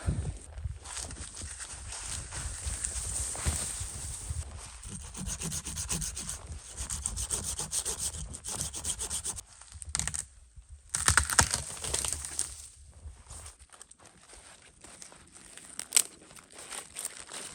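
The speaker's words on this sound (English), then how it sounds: "So I'm just separating out different sized branches, really dry wood, to get the fire going tonight." Dry branches of different sizes being sorted for a winter campfire outdoors, giving steady close rubbing, snapping and crinkling of wood with a few sharper cracks, no talking.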